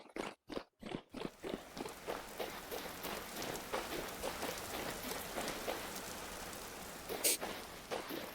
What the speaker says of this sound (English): Not have to listen to rain noise all the time